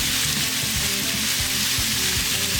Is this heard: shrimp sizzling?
yes